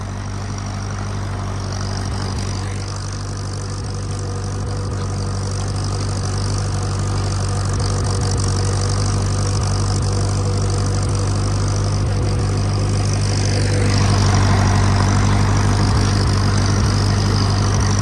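A tractor engine, the 400, drones steadily while plowing in first gear, loud and close with a constant low rumble that swells slightly toward the end.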